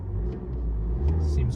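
A cheap used BMW 3 Series engine turns over and catches, settling into a low steady rumble close by, with brief voice sounds over it.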